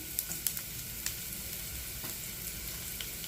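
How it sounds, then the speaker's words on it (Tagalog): Onion and garlic frying in a little cooking oil give a continuous close sizzle scattered with small crackling pops, with no voices. "I-add natin ang onion at garlic."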